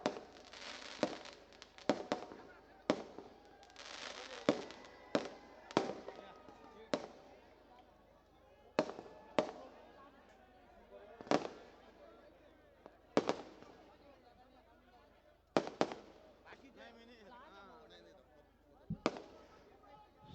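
Firecrackers burst at an outdoor political campaign rally, with a string of sharp, loud cracks arriving in irregular clusters over a steady crowd murmur, while an announcer's voice carries on a loudspeaker.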